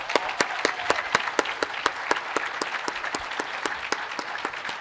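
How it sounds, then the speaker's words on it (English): A commencement ceremony audience applauds an honoree, with a few sharp, prominent claps standing out in a regular rhythm over a steady bed of crowd clapping. "Let's give him another round of applause."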